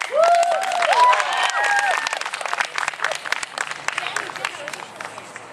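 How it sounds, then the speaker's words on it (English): Audience at a Goffstown performing arts event applauds and cheers, with a burst of clapping, whoops and voices early that settles into scattered claps and chatter toward the end. "Give him a round of applause."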